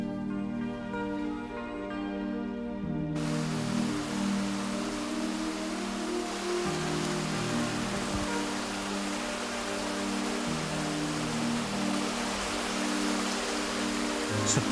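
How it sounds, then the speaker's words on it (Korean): Steady rushing water, like a mountain stream flowing over rocks in a forest valley recovering after a wildfire in Goseong, with a soft tonal hum in the background and no speech. "숲이 살아나자 말라버렸던 계곡에 물이 흐른다."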